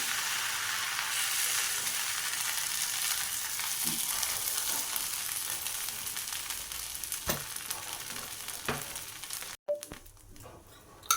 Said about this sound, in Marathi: आता आपण हे थालीपीठ घालून घेऊया.